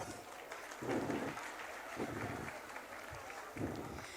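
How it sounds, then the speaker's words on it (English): Audience applause after a performance at a school annual function evening event comes as a muffled, steady crowd clapping with a few swelling surges, heard at a distance and moderately faint. "Give a big round of applause."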